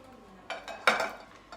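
Ingredients for a stoneware egg casserole bake being stirred together, a few soft scraping swishes with one louder stroke midway, quiet and close with no talking.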